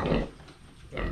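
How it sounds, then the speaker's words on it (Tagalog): A large breeding sow on a backyard farm gives two low, rough grunts, one at the start and one at the end with a short quiet gap between, heard close and alone. "Kaya yung baboy natin ito malaki."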